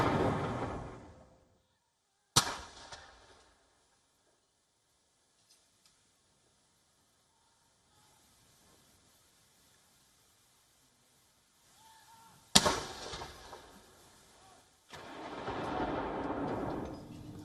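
A ceremonial gun salute fired to honour the Queen, with two sharp booming cannon reports standing alone in long stretches of quiet, the second followed by a rolling echo.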